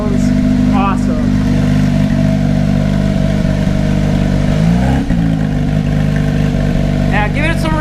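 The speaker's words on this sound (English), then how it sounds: "the titanium exhaust is here. This thing sounds insane right now." Porsche GT3 with a titanium exhaust and its valves open, holding a loud, steady high-revving engine note close by throughout, with a brief dip and recovery midway and voices talking over it.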